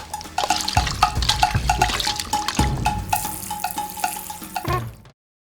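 Chicken feet being washed with turmeric in a metal vessel, water splashing and pouring in close, uneven bursts with clanking of the pot, steady for several seconds before stopping abruptly.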